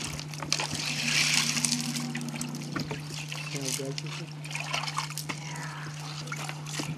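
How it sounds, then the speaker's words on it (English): Water is poured over handmade glass beads at a bead workshop in Ghana, giving trickles and splashes that come and go over a steady background hum while people talk nearby. "I'd like to pour a little bit of water on it for you to see."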